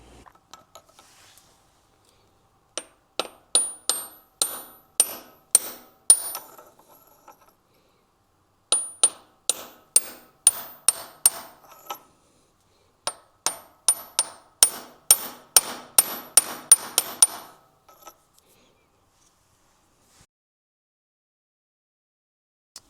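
Sharp metal hammer strikes drive a crank seal into a KTM 300 XCW engine case, coming in several bursts of rapid, evenly spaced taps with short pauses between them, close and alone with no talk.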